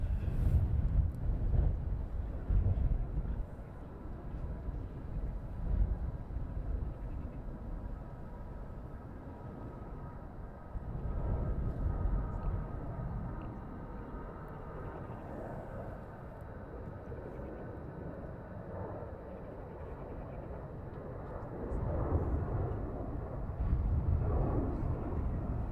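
Aer Lingus airliner taking off at London Heathrow, a steady broad jet roar rising and swelling in waves across the whole stretch, with wind buffeting the microphone and no talk.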